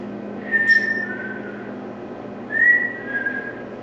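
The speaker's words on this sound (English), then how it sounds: "Can you whistle like this?" A person whistles two short sliding notes, each a brief clear tone, heard close in a quiet room at an Elks lodge with a low steady hum behind.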